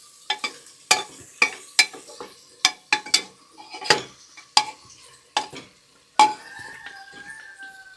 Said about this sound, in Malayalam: അമ്മമ്മ ഇളക്കി ചിക്കൻ ഇളക്കി കൂട്ടിയേ